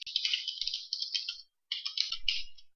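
Keys on a computer keyboard are tapped in quick, close bursts, a rapid stream of light clicks that pauses briefly before a second run of typing.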